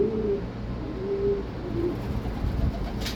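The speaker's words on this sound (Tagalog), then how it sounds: "Ayun mga kalapatids, pumasok na si Negro" Racing pigeons returning to the loft after a fun race in Saudi Arabia give soft, low cooing in a few drawn-out notes under steady background noise.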